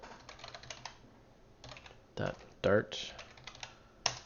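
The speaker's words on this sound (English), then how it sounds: "I'm just kind of typing." Computer keyboard typing while coding a Flutter class, a run of quick light key clicks with a few louder keystrokes, close by, under a person's occasional speech.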